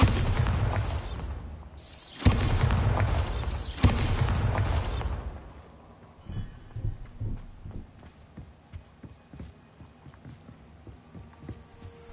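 The Bombarda explosion spell bursts in a Harry Potter video game with a heavy, booming blast followed by rumbling debris and thuds, then fading into softer clattering game sounds.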